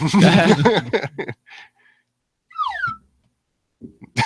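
After a person speaks briefly, a whistle gives two short chirps, the second a quick falling sweep, imitating R2-D2's robot beeps.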